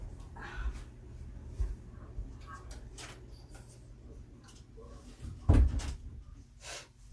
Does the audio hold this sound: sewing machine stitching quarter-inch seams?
no